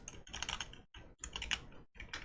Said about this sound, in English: Sometimes it's just myself typing too fast